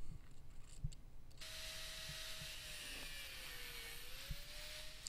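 A 4.5-inch angle grinder cuts into a rusty old axe head, a steady high abrasive whine running for several seconds after a quieter start, its pitch sagging and recovering slightly as the load changes.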